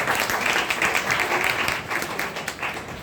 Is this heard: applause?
yes